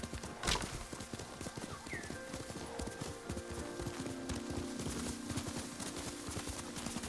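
Horse hooves clip-clop in a steady rhythm through the Ghost of Tsushima video game, with a brief neigh near the start, all over a continuous game soundscape.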